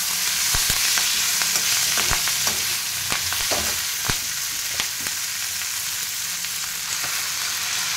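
Drumstick leaves and drumstick flowers fry in a pan with a steady broadband sizzle, broken by scattered sharp crackles and pops from stirring; close and continuous throughout, no talking.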